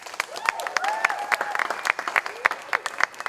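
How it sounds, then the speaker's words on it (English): Symposium audience applauding a speaker, scattered sharp claps from a modest crowd mixed with a voice and a faint tonal sweep, uneven and fairly quiet. "Can we get one last round of applause for Mimi?"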